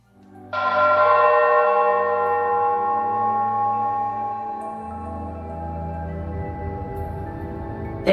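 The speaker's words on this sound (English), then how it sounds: "There goes the bell again." A clock tower bell in the video game Dyschronia: Chronos Alternate strikes once loudly and rings out with a long, slowly fading tone over a low musical hum.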